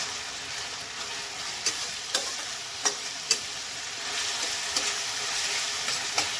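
Onion and garlic sizzle steadily in a pan while a spoon stirs through them, with several sharp scraping knocks against the pan standing out over the constant frying hiss.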